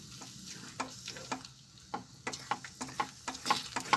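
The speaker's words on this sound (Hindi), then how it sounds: "इसे हल्की हल्की आंच पे हम कम से कम 25-30 मिनट तक अब इसे हम भूनेंगे।" A spatula stirs and scrapes moong dal halva roasting in a pan over a low flame, with a steady soft sizzle and a run of sharp, regular scraping strokes that grow quicker toward the end.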